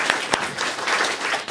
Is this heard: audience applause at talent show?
yes